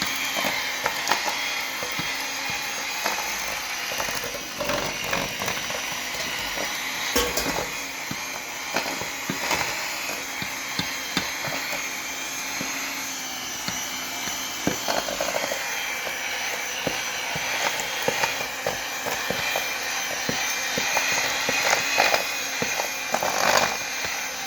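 An electric mixer works flour into chocolate chip cookie dough, a continuous loud grinding whir with scraping, knocking clatter of beaters against the bowl, no speech.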